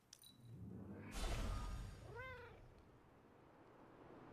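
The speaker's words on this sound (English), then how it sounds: "Wow, there's a cat here." A cat meowing in a video game, a single short meow following a whooshing burst of game noise, with no talking.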